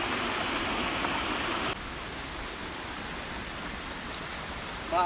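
A steady, even rush of flowing water fills the air, continuous and unbroken, with no voices over it.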